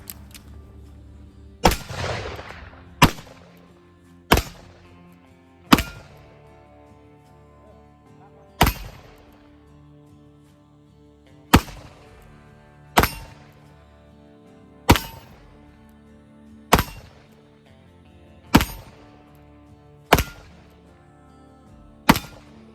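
Pistols loaded with 4F black powder firing outdoors, a dozen sharp loud reports spaced one to three seconds apart, each with a short decaying ring, with quiet stretches between shots.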